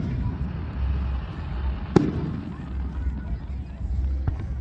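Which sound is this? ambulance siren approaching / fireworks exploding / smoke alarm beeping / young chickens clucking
fireworks exploding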